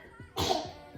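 A single sharp sneeze bursts out midway, loud and close, after a moment of quiet room tone.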